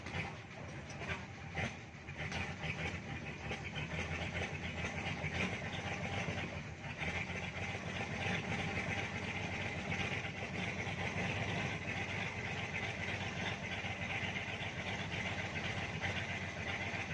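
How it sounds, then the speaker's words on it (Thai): A boat engine idles steadily while the captain checks it before a river crossing from Tha Pho, a continuous low mechanical rumble with a constant hum and no talk. "เช็คเครื่องเนาะเครื่องยนต์อยู่"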